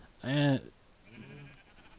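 A sheep in Minecraft lets out one loud, clear bleat, followed by a fainter second bleat, heard close with no talking.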